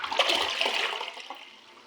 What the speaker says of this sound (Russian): Нажимаю малый слив.